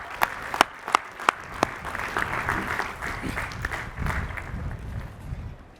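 An audience at a university spring commencement applauds the master's degree recipients, a few sharp claps at first swelling into broad, steady clapping that fades toward the end.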